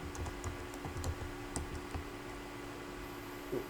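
Quick, light keystrokes on a computer keyboard come in an irregular burst of close, soft taps, then fall quiet over a steady background hiss, with no talking.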